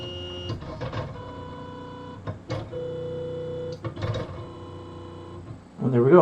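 A Cerambot 3D printer auto-homes as its axes drive upward: close, tonal stepper-motor whines in several start-stop bursts, rising to a louder buzzing movement at the end.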